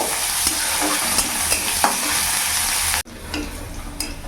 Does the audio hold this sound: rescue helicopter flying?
no